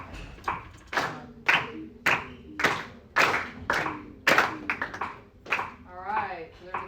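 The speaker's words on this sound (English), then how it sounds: "You're going to clap and count. Clap and count. your part and your part only." Middle school students in a music classroom clap a rhythm part while counting aloud, producing distinct, evenly spaced handclaps mixed with spoken counting.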